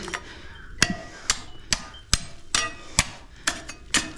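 Sharp hammer taps ring out one after another at a steady, unhurried pace at a disused well, knocking loose a piece, about nine close strikes with faint background between them.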